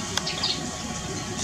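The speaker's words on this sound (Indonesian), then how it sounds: "manyar lagi mandi nih." Weaver birds bathing in a tall aviary, with light chirps and tweets over a soft, steady wash of water and fluttering, one sharper call standing out near the start.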